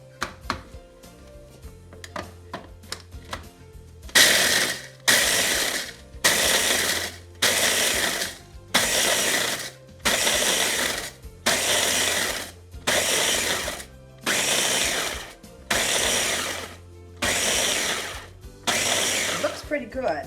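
A kitchen appliance grinds up cake ingredients for a white chocolate peach mousse cake, running in about ten loud, regular pulses of harsh whirring, each lasting roughly a second with short gaps, after a quieter start with faint clicks.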